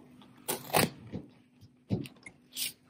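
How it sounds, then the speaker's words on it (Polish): Crunchy bites and chewing of a no-bake cake made with Oreo cookies and milk chocolate, several soft crackling crunches at irregular intervals, quiet and close with no talking. "Chrupiąc."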